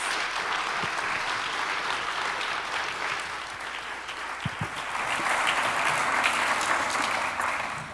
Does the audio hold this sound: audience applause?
yes